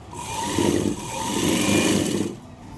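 A sewing machine stitches a lining blouse in two close, steady motor runs with a brief slowdown between them, ending in a sudden stop.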